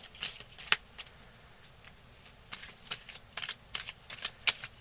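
Tarot cards are shuffled and handled up close in irregular papery bursts of riffling and soft slaps, with no speech over them.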